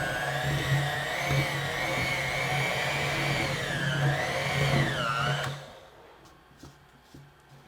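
An electric mixer beats peanut butter cookie dough in a bowl, a loud, close motor whine whose pitch wavers for about five seconds before it stops, leaving near silence.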